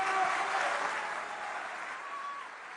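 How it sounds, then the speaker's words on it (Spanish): Brief burst of audience applause at the Latam Economic Forum 2025, a full wash of many hands clapping that eases slightly toward the end. "les pido por favor que lo reciban con un aplauso"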